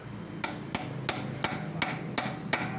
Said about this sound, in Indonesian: Nah ini pukul pakai ini bekas sok yang lebar atau pipa, pokoknya sampai bunyi cetok-cetok gitu